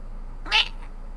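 A single short meow, apparently a human voice imitating a cat, rising briefly and fading within half a second against a quiet background hum.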